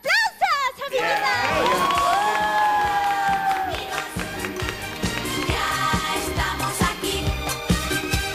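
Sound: audience applauding and cheering

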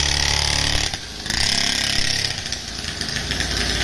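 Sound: dirt bike engine revving

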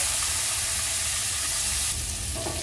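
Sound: eggs frying in masala in a pan

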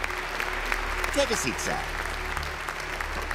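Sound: audience applause in a cartoon

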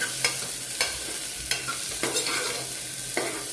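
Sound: green garlic and asafoetida sautéing in a pan

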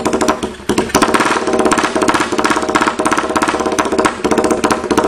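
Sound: ATV engine idling

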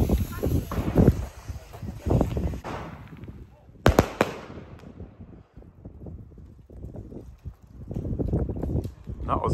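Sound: fireworks battery of 13 shots going off

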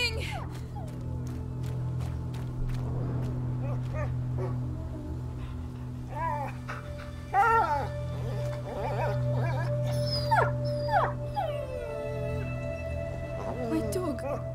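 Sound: dog howling and barking in video game A Plague Tale Innocence

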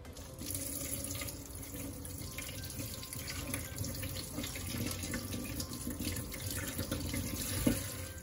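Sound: rinsing smelt fish under running tap water

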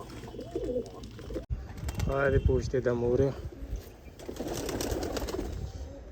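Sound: pink pigeons cooing

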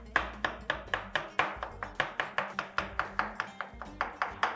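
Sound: roughly chopping roasted aubergine with a knife

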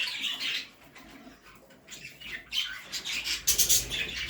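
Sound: jumbo budgerigars chirping in a pet shop

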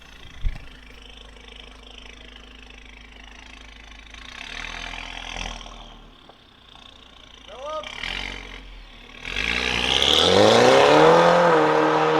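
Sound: Mercedes GLA200 1.6 remote-controlled valved exhaust revving

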